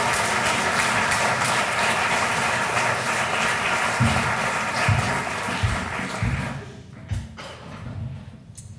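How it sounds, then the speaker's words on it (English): Audience applause at an award ceremony, a full steady round of clapping that thins out toward the end, leaving a few scattered claps and some low thuds. "Let's give a round of applause for NRCM Rising."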